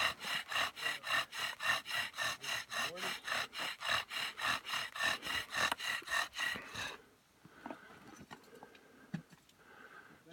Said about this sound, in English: sounds like he's doing the bow drill again